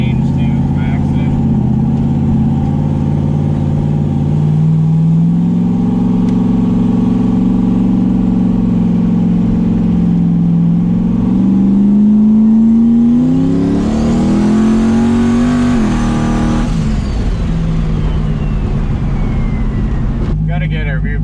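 A turbocharged LS-engined car is heard from inside the cabin. The loud engine drones steadily, then revs climb into a hard acceleration with rising turbo whine before easing off, and the roar stays loud and close throughout.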